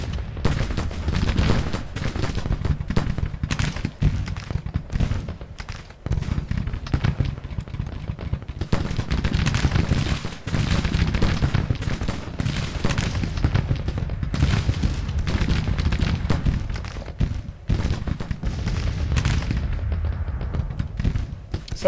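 Artillery batteries firing in Grand Tactician: Civil War, a dense, continuous barrage of booming cannon shots and crackling gunfire that rolls on without pause, loud and layered across the whole stretch.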